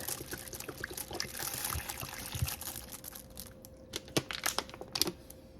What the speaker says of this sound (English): I'm going to add some water, just a bottle of water.